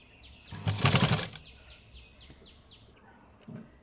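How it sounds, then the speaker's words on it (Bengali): A sewing machine stitches a side pocket on Patiala pants in one short, loud whirring run under a second, followed by quieter surroundings with repeated light chirping sweeps and a soft thump near the end. "এই যে আমি এখান থেকে ঠিক এখান থেকে এখন সেলাই দিব।"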